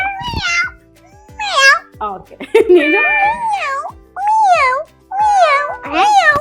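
A child repeatedly mimics a cat's meow on stage at a New Year show, several drawn-out wavering calls in a row, close and loud, with an adult briefly speaking between them.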